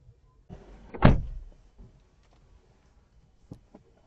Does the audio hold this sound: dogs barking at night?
no